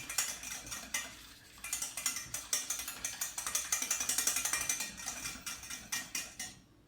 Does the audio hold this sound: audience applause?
no